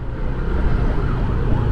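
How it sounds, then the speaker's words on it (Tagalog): An ambulance siren wails on a busy Manila road near the Quirino Avenue interchange, loud and continuous under heavy traffic rumble, with no talking. "Yun, mayroon pang ambulansya"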